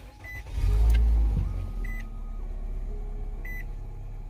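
A 2013–2018 Nissan Altima starts with a low engine rumble, followed by steady idling. Short electronic beeps come from an aftermarket Android stereo powering on, with no talking.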